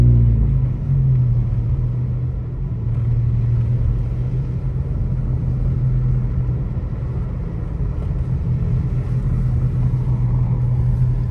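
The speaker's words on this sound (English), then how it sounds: "We are driving through kind of a tunnel of trees anyway." A car drives along a snowy road through Bear Valley, its steady low engine and tire rumble holding close and even throughout, with no voices.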